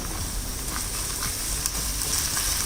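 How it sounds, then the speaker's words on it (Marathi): Chopped onion with ginger-garlic paste sizzles and fries steadily in a pan as it is stirred, a close, continuous crackle. "थोडा कच्चा वास जाईपर्यंत चांगली परतून घ्यायची आहे"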